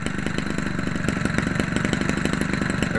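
A Homelite Textron 30cc Blue Flame RC airplane engine with a new Champion spark plug runs steadily close by, a loud, even buzzing drone with rapid firing pulses and no talk over it.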